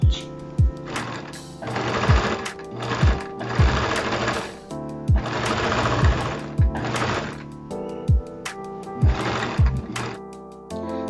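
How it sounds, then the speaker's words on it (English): A sewing machine runs a zigzag overlock stitch along fabric for a dress made from a bedsheet, in close, loud bursts of rapid mechanical clatter separated by brief pauses and thumps. "Then overlock it with a zigzag stitch."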